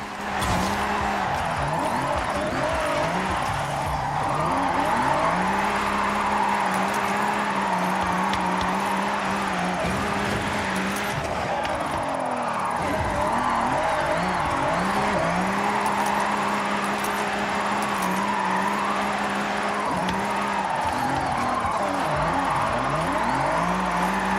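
A car engine hums and revs steadily under game music, with pitch rising and falling as it accelerates and shifts, continuous and fairly loud.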